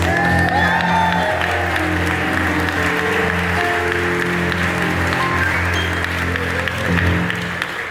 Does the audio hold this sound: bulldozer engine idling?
no